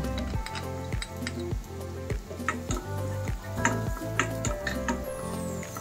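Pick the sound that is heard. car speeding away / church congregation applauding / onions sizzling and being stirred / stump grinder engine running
onions sizzling and being stirred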